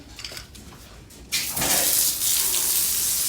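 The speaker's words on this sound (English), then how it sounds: "Just give it a rinse." Water from a tap gushes steadily into a sink for a rinse during a dog grooming routine, starting abruptly partway through after a quieter opening and then running loud and constant to the end.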